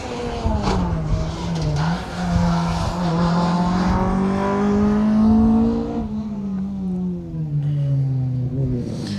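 Rally cars racing on a stage of the Colin Ellmore Memorial Rally, with Minis among the field; a loud, sustained engine note rises and falls in pitch as a car revs and passes near, steady throughout with no talk.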